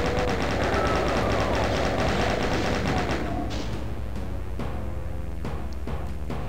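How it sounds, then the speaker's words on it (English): Chain gun in Ultimate Doom, on the Unholy Cathedral map, fires a loud, sustained rapid burst for about three seconds, followed by scattered lone shots and impacts. "We're gonna use the chain gun."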